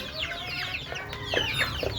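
Native chickens kept on a rooftop cluck and chatter close by in quick, overlapping calls over a light outdoor background.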